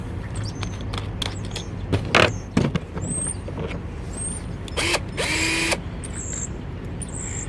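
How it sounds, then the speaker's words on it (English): A power drill boring holes to mount a rooftop cargo carrier, several short bursts of whirring with brief pauses between them, loud and close, with light handling clatter. "let's go ahead and get these drilled"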